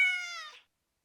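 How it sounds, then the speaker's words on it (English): A single short cat meow from the Nancy Drew video game, clear and close, fades out after about half a second into silence. "Cat."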